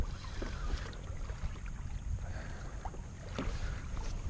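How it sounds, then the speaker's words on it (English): A kayak being towed offshore by a hooked 63 lb bluefin tuna, water rushing and sloshing along the hull with buffeting wind noise, continuous and close. "Now it's really pulling the kayak."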